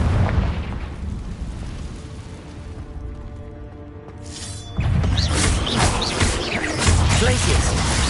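A Confringo explosion spell cast in the Hogwarts Legacy video game: a rumbling fiery burst that swells into a loud, sustained roar of blasts partway through, with a voice speaking over it.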